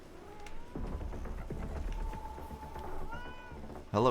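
A cat in The Last Caretaker video game gives a few faint, drawn-out meows over low ambient game rumble and scattered thuds, with no talking.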